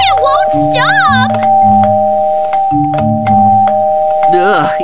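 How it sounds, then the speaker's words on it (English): A doorbell in the Minecraft video game rings repeatedly in a steady ding-dong pattern, loud and persistent, while excited children's voices talk over it. "It keeps ringing the doorbell! It won't stop!"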